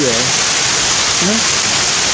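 Heavy rain pours in a loud, dense, unbroken hiss that fills the whole scene, with brief bits of a voice faintly rising above it.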